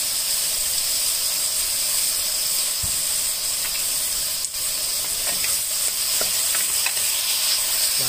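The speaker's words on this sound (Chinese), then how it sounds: "现在倒入水，放入那个五花肉汤汁，再加点老抽" Water, pork belly broth and dark soy sauce go into a hot pot for Shanghai-style braised pork belly with bamboo shoots, making a steady close hissing sizzle that holds throughout with no talking.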